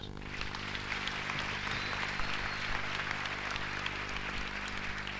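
A church congregation applauding together in a dense, steady wash of clapping that holds evenly throughout, with a low hum running underneath.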